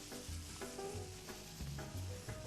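Onion, garlic and mushrooms cook in a pan with a bit of salt, a soft steady sizzle with occasional stirring scrapes, quiet and close.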